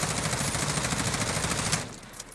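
Rapid automatic gunfire from a video game weapon during a recoil demonstration, a fast steady stream of shots that runs for about two seconds and then cuts off, leaving a faint tail.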